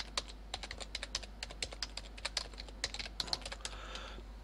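A domain name is keyed in on a computer keyboard, quick light clicky keystrokes in an uneven rhythm, close and fairly quiet over a low steady hum, with no talking.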